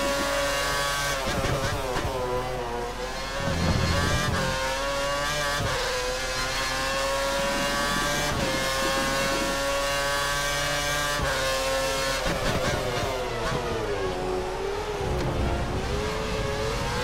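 Formula 1 car engine in the Codemasters game F1 2013 at Melbourne revs high, then drops in pitch through quick downshifts and climbs again, loud and continuous with brief blips.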